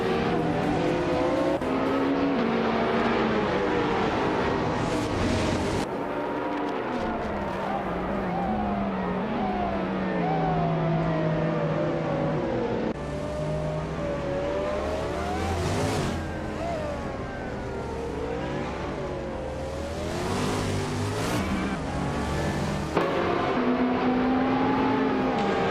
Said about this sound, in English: the race is kicking off at Sepang, and Jordan F is starting in pole position with a 2020 Porsche 935